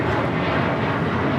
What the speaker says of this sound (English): Taking off to Newark. It's a 4-year-old A321, JetBlue Airways 1874.